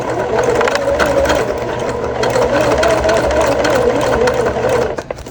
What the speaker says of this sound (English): We're sewing on the bottom, back stitch at the start.